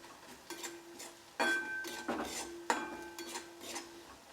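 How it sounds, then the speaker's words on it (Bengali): A metal spoon stirs turmeric and chilli powder for masoor dal tadka in a pan, with soft clinks and scrapes over a quiet, faint sizzle and a couple of sharper metallic knocks. "নেড়ে আমি কষিয়ে নেব"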